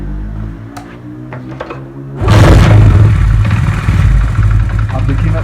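A Honda CD 70 motorcycle engine is started after a few quiet clicks and a low hum, catching abruptly into a loud, close, chugging single-cylinder run that rises briefly and then settles into a steady rhythmic beat.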